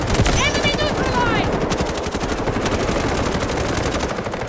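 Automatic gunfire from a Delta Force match, loud sustained bursts filling the scene with dense crackling shots, mixed with game effects and a brief tonal sound early on.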